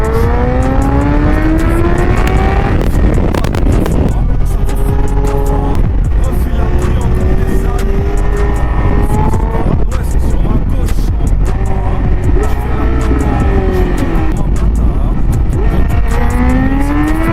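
A car drives through a city with a steady engine drone and rising, falling gear-change tones as it accelerates. Voices talk over it throughout.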